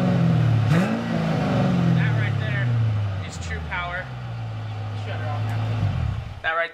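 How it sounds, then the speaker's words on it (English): A 450-horsepower big block V8 revs up once with a deep, throaty rise, then settles into a low, steady rumble that runs for several seconds while people talk over it. "if he gives it a couple little revs, you can hear a nice, deep, girthy sound"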